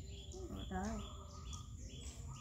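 Birds chirp in a few thin, high calls beneath a person's nearby speech, which dominates the brief moment.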